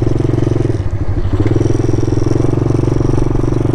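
All-terrain vehicle engine running steadily close up, a continuous loud motor drone with strong low harmonics throughout and no talk.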